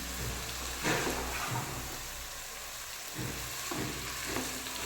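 Multigrain millet noodle biryani is stirred gently in a pan, giving a soft continuous sizzle with a few light scraping touches, close and steady with no voices.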